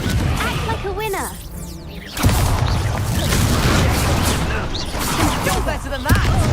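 Spell-blast explosions and whooshes from Confringo casts in a Hogwarts video game, loud bursts and swishes layered over game music and combat noise, with a sharp impact near the middle and another near the end.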